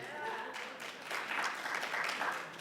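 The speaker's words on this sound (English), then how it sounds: "don't applaud, actually you shouldn't applaud yet" An audience at a talk breaks into steady applause, a dense patter of many hands clapping at moderate loudness that swells slightly midway and carries on throughout.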